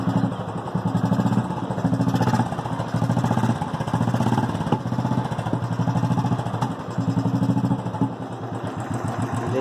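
A Royal Enfield 500cc motorcycle converted from EFI to a carburettor runs close and loud, its engine giving a steady, rhythmic low thumping throughout with no talk.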